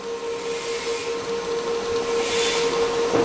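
A Bohler Uranos GSM 4000 MIG welder runs at a very low setting, giving a continuous close hiss with a steady high tone and a slowly swelling crackle, alone without voices.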